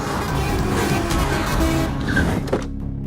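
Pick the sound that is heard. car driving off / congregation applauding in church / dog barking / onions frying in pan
car driving off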